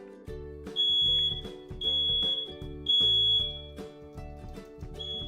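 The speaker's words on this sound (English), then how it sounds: "The smoke detector is very, very important because this is definitely a life or death, life-saving task there" A smoke detector alarm sounds in a home where a service dog is trained to alert to it, giving loud, shrill repeating beeps in a steady rhythm over a musical background.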